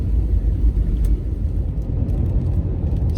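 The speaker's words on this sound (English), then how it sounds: "Still snowing. We're driving 37 miles per hour." A car drives at about 37 miles per hour along a snowy road during a snowstorm. The interior holds a steady, close, low road-and-engine rumble throughout, with no talking.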